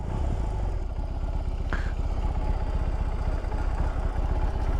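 A BMW R 18 motorcycle idles in neutral with a steady, close, low engine rumble and a fine clatter that runs through the whole stretch without a break.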